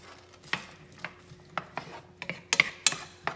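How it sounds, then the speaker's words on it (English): A wooden spoon stirs and scrapes food frying in a pan, giving irregular clacks and scraping strokes spaced about half a second apart, with a few sharper knocks toward the end. "All you're basically doing is stir frying."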